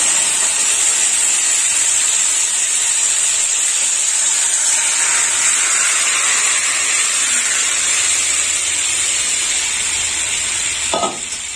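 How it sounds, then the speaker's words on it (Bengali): Fish curry broth poured into a hot pan with mango and rohu fish, bursting into a loud, continuous sizzle that hisses on steadily, with a brief knock near the end. "এবার দিয়ে দেবো মাছের ঝোল।"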